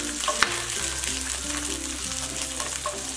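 Green chilies and cashews fry in oil while being stirred for dragon chicken, a close steady sizzle broken by light clinks and scrapes of the spoon, with no speech.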